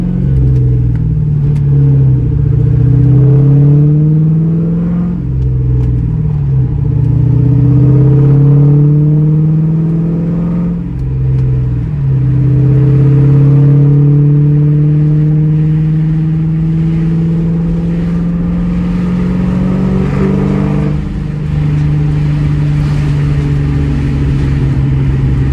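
A Ford Mustang GT engine revs repeatedly, steady loud rises and drops in pitch in a rhythmic series of pulls, close and alone with no talk.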